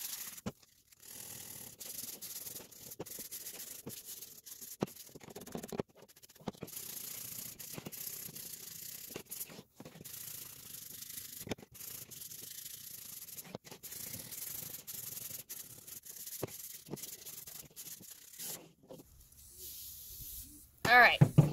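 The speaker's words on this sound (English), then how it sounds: "I'm just going to give this a light sand down." Hand sanding of barn wood with 150-grit sandpaper makes a soft, steady scratchy rubbing in repeated back-and-forth strokes, close and fairly quiet, with a few louder knocks near the end.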